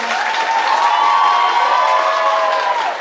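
An audience at a Polish high school prom applauds in steady, loud, dense clapping that fills the hall and holds evenly throughout, with no speech over it.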